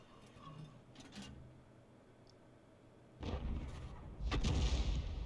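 Tank cannon fire in a tank video game: two deep booming shots land close together in the second half of the clip, following quieter thuds and mechanical clicks earlier on.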